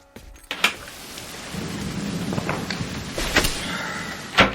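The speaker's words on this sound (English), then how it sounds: "But it's raining." Steady rain pattering with a low rumble of thunder, punctuated by a few sharp knocks and clatters close by.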